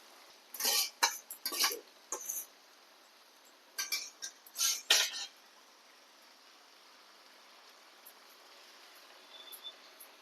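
Boiled cabbage tipped onto braised chicken in a pan gives a few clinks and scrapes of utensil on metal, clustered early and again midway, then quiet.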